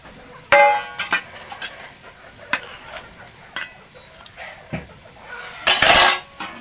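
Fried potatoes and water go into a pot of chicken biryani, bringing a few sharp metallic clanks and knocks of utensil against pot, spaced out over quieter kitchen background.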